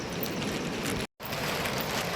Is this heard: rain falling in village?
yes